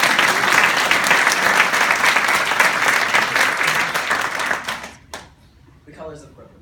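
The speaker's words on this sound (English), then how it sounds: "another round of applause to the two" Audience at an essay contest event giving sustained loud applause that fills about five seconds, then fades abruptly into quiet with a brief voice afterward.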